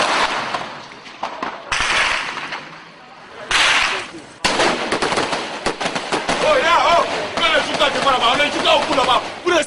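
Bursts of gunfire with shots fired in all directions during a hostage situation, sharp cracks under loud shouting voices and chaotic crowd noise throughout.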